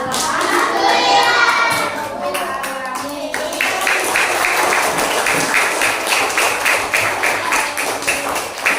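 A school class of children claps together, starting amid a chorus of young voices and shifting into a rhythmic run of sharp, roughly even claps that continues to the end.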